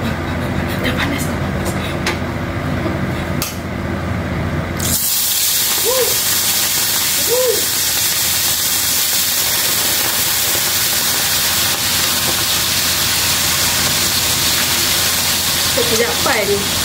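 Squid frying in hot oil with turmeric and salt in a home kitchen, a loud continuous sizzle and hiss that bursts in after a quieter opening with clatter, with brief voice sounds over it.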